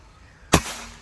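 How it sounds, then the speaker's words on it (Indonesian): A single sharp crack from a PCP air rifle, a double-power-plenum Bocap Ex-Strabig Goblin, striking an upper target at long range, with a brief decaying tail. "Lanjut tembakan kelima."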